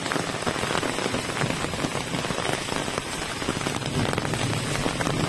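Heavy rain pours down in Kadapa amid strong wind, a dense, steady hiss of drops striking surfaces that stays loud and even throughout with no voices.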